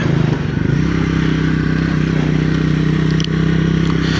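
Triumph Speed 400 single-cylinder motorcycle engine droning steadily from third gear as it drops down a gear, with a brief dip in the engine note near the end and wind rush throughout.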